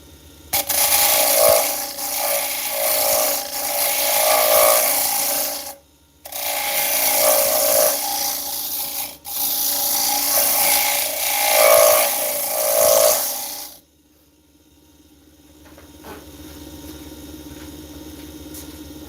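Birdseye alder spins on a wood lathe while a carbide tool scrapes and shaves it, giving loud, close, continuous rasping broken by two short pauses before the cutting stops and only a faint hum remains.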